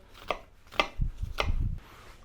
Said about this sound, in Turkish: Şimdi yarım soğan yine küçük küçük doğruyorum.